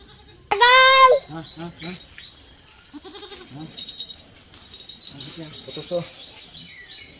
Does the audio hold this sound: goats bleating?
yes